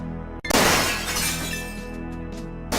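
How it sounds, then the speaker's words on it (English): Glass breaking with a sharp crash after a brief hush, followed by tinkling, scattering shards that fade over two seconds before another burst at the end, all under a steady low hum. "Gabriel hears the faint sound of breaking glass"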